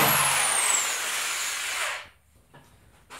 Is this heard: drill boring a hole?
yes